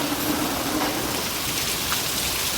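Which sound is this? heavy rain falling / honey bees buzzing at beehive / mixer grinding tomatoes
heavy rain falling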